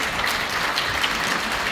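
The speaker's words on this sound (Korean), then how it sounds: "네, 시원하게 박수 한번 주시죠." Applause from attendees at a Seongnam city project launch photo session: dense, even clapping from a crowd, steady and fairly loud across the short stretch with no speech.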